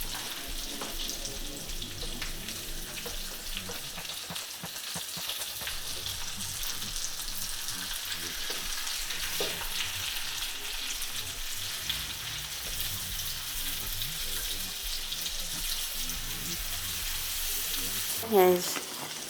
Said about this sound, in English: I'm gonna go ahead and flip the salmon